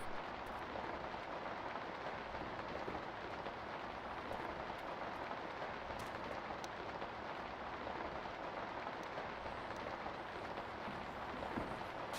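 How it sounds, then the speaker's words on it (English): A heavy, steady video game downpour hisses continuously without a break, a dense broadband rush of rain with no voices. "Hard rain downpour, a map by NF."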